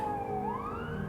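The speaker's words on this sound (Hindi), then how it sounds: "तो आप देख सकते हो वो एम्बुलेंस, फायर ट्रक है शायद, हाँ फायर ट्रक है।" A fire truck siren sounds on a street in Canada, a wailing tone that sweeps upward, heard from a moderate distance over traffic noise in a brief snippet.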